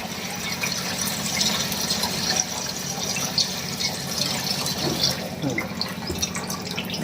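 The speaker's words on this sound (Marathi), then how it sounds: "मी हे पाणी काढून घेतो आता." Soaking water is poured off soaked sorghum grain while making papad, a steady close gush of liquid that continues for the whole stretch with small splashes and fluctuations, and no voices.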